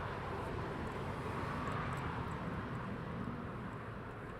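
At night, an aircraft taxis at East Midlands Airport. Its engines make a steady, dense, rumbling drone at moderate distance, unchanging throughout, with no voices.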